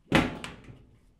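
A B&R Econo panelboard's metal door swings shut with one sharp, close clunk, a brief rattle following before it quickly dies away.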